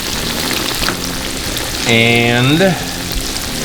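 Breaded chicken-fried steaks fry in 350 degree peanut oil on a Blackstone griddle range top. A loud, continuous crackling sizzle runs throughout, and a short voice rises briefly in the middle.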